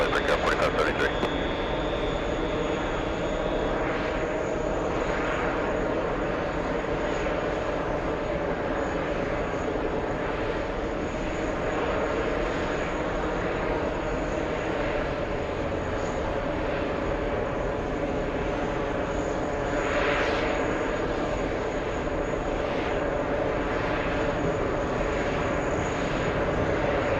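A fixed-wing airplane roars steadily on its takeoff roll at Kennedy airport, a broad, constant engine drone lasting throughout, with radio voices speaking over it.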